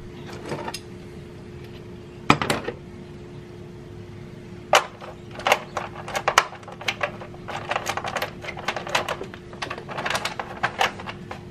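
A 10 mm socket drops in a garage, giving a run of sharp metallic clinks and small rattling hits, a few louder strikes early, then quick bouncing clatter, close by and with no voices.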